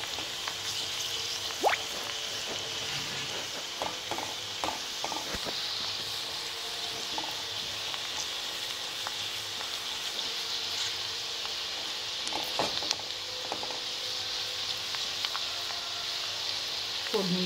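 Onion frying in oil tempered with asafoetida and mustard seeds, a steady low hiss with scattered faint pops and ticks, gentle and continuous from start to finish.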